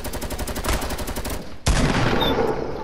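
Magnum revolver and other gunfire in a video game, a rapid rattling volley of shots followed by one sharp, loud crack and a lingering noisy tail.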